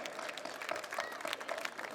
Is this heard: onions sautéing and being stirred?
no